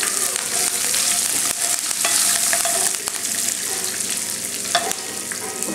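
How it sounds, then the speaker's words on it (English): Green chilies and curry leaves frying in hot oil, a loud crackling sizzle with sharp pops and spoon scrapes against the pan, no talking. "So let me go ahead and add the green chilies, then the curry leaves."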